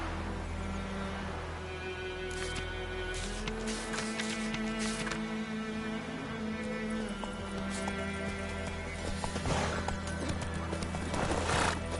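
Roach, a horse in The Witcher 3, neighs loudly and repeatedly while hooves clop along steadily beneath a constant game ambience.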